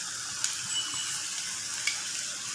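Mint leaves dropped into a pan of mutton karipap filling, setting off a soft continuous sizzle with a few small crackles and pops, no voices.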